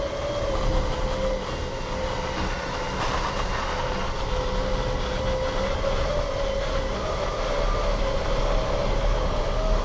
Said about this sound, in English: we'll give it a winch.